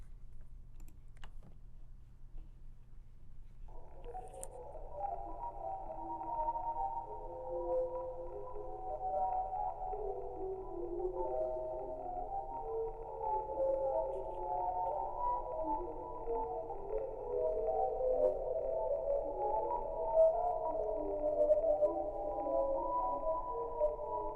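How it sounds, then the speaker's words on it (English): A sonification of a Hubble deep space image: after a few seconds of low hum, a steady band of soft, shifting tones with faint clicky blips fades in and continues throughout. "Let's listen in to a sonification of a Hubble deep space image."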